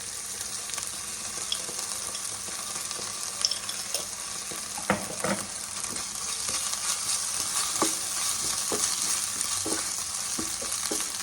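Ginger garlic paste frying in oil for pav bhaji, a continuous close sizzle with scattered sharp spatula scrapes and taps, no voices.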